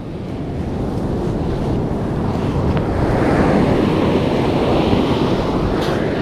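Ocean waves roll in at a river mouth where people are fishing, with a deep, continuous surf roar that swells louder partway through, mixed with gusty wind buffeting the microphone.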